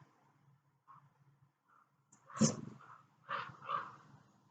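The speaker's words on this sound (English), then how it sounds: "the crow, I think" A crow caws three or four times in a short, uneven burst, moderately distant against a quiet background with faint low rustling.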